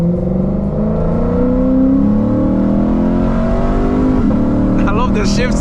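A Lexus RC F V8 pulls hard, its engine note climbing through the revs with gear shifts breaking the rise, loud and close from inside the car, with some talk over it.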